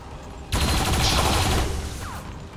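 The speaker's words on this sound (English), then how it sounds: "We could use the turret to blow this thing up." Sustained turret gunfire in the XCOM 2 video game, a dense burst of rapid shots starting abruptly and continuing for about two seconds, loud and close, then fading.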